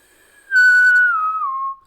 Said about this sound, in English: Is that your attempt to whistle?